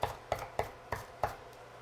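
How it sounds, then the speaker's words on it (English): A knife chops shallots on a kitchen board with five crisp, evenly spaced strikes, each one close and distinct. "Okay, here are my shallots. Chop, chop, chop."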